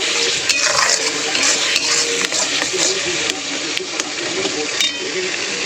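Ginger, garlic and onion masala being stirred and fried in a pan, with a constant sizzling hiss and repeated scraping clicks of a utensil against the pan, heard under ongoing talk.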